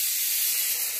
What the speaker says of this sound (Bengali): তো প্রেসারে সিটি পড়ছে